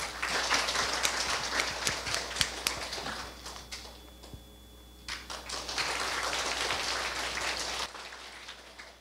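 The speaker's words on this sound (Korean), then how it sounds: "뜨거운 박수로 환영해 주시기 바랍니다." Audience applause in a university lecture hall welcoming a guest speaker, dense clapping filling most of the stretch with a brief dip midway before swelling again, then trailing off.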